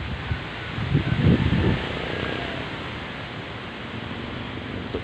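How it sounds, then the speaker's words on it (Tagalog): Sea waves rolling ashore on a windy coastal day, heard from a house above the water as a steady broadband wash with a louder surge of surf near the start, continuous and moderately near, with no talking. "Malakas yung alon guys."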